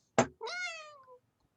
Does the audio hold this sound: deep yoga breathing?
no